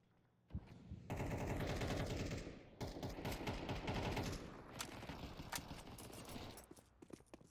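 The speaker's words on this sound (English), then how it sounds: "He's spamming with those pistols." Rapid pistol fire in Counter Strike 2, a dense burst of shots rattling almost continuously for several seconds, loud and close, then thinning into scattered single cracks toward the end.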